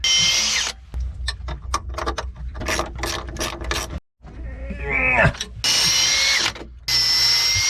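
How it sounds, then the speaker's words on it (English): A power drill with a long 3/16 bit bores into the timber of a wooden boat under restoration, its motor whirring in loud bursts with ratcheting pulses and short pauses between runs. "I gotta have a nice long 3/16 drill"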